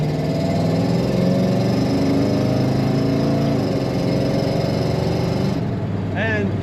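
1963 Pontiac Lemans sport coupe with an automatic transmission running, a steady, loud, rumbling idle held close up throughout, with a brief higher whine breaking in near the end.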